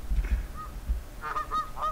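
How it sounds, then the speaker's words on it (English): Ducks in the video game Thirty Flights of Loving, a few honking quacks in quick succession after low rumbling thumps, fairly close and clear with no talking. "You're ducks. You don't belong."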